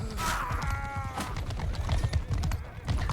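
Horse hooves clip-clop in quick rhythm in Mount and Blade 2 Bannerlord, steady and fairly close, mixed with other busy game sounds and a brief tonal swell near the start.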